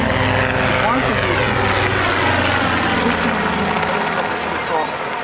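A Robinson R22 helicopter's engine and rotor drone steadily and loudly throughout, close by, with a constant chopping roar.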